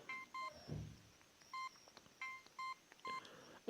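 Soft beeps from the large keys of a Samsung E380 mobile phone pressed one after another at an uneven pace, with faint clicks and rustling between them and a brief thump at the end.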